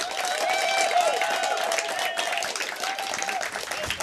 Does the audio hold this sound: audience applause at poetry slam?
yes